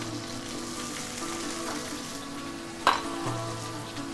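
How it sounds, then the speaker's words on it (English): Onions tipped into a pan of browned nuts sizzle steadily at close range, with one sharp clatter partway through and no talking. "So I'm going to add my onions,"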